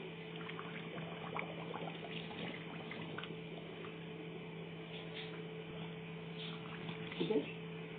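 Water pours steadily and faintly with a low hum underneath, a brief splashing trickle near the end.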